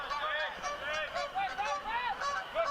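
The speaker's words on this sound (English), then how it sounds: "if you can hear the two geese, we got a nice flyover now" Two geese fly over a college men's soccer match, giving repeated nasal honks in an irregular series. The calls are faint and distant against the open-air background.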